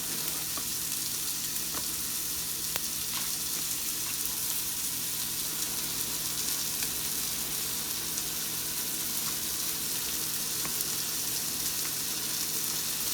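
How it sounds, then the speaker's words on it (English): A big steak sizzles and fries steadily in a hot pan for taco filling, a continuous loud crackling hiss with no talking. "that's a pretty big steak, so I'm going to have to let it cook for a minute before I put it over"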